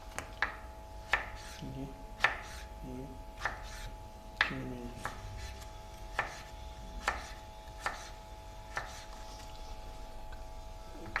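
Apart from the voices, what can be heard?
knife cutting vegetables for Russian salad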